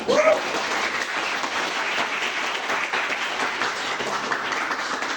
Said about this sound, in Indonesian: Ya, tepuk tangan dulu kalau jelas.